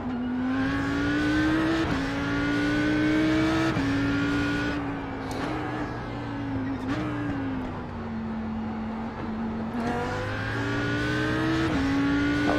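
An Audi R8 GT3 race car on the Bathurst circuit in a racing video game, its engine droning loud and steady as it rises through the gears with sharp shift steps, and no speech over it.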